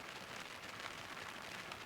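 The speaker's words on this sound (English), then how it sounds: "As you can tell by the sound, it's raining." Rain falling on a truck camper shell on a Tacoma pickup, a dense, steady hiss of drops pattering on the shell, heard from inside, soft and unbroken with no voices.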